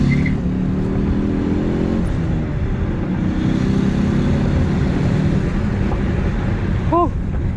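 A car with a stage 1 ECU tune drives along, its engine a steady loud drone with road and wind rush throughout, rising slightly near the end.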